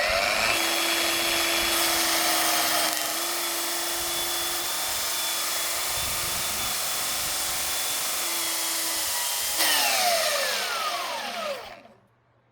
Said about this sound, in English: So now we just gotta grind this one down.